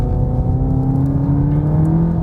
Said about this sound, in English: Next S corner, also the sound from the Cupra.